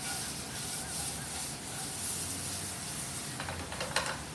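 Tomatoes and asparagus sizzle in hot oil in a pan, a steady close hiss and crackle with a few louder spits near the end.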